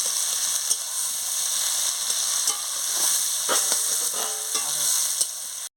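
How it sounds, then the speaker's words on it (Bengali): Sliced onions frying in hot oil for a goat meat curry, a dense, loud, continuous sizzle up close with a few soft stirring knocks, no voices, cutting off abruptly at the end. "পেঁয়াজটাকে ভালো করে আমি তেলে ভেজে নিচ্ছি"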